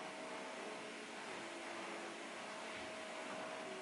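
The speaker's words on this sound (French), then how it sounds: "Pour celles et ceux qui n'ont pas vu mon sublime aspirateur, c'est ça." A vacuum cleaner drones steadily throughout, a constant whooshing motor hum with a faint tonal whine, running alone while a small apartment and balcony are cleaned.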